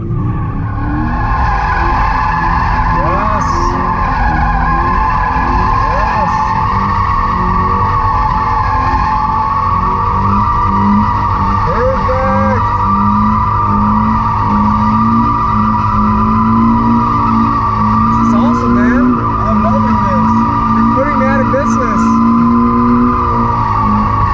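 A Toyota GT86 drifts on a track, its engine droning loudly and continuously while the tires squeal and skid throughout for over twenty seconds, close and with no pauses.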